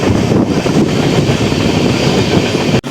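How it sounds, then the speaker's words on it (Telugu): The Tirupati Express rolls out of the station on a rainy day with a loud, continuous rumble and rattle of carriages heard from on board, some wind buffeting over it, ending in a brief dropout. "ట్రైన్ అయితే ఇప్పుడే స్టార్ట్ అయింది"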